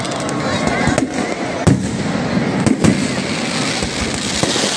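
Fireworks crackle loudly at the burning of a Ravana effigy during Dussehra Ramlila celebrations in Nainital, with a continuous roar cut by several sharp, close bangs, and crowd noise underneath.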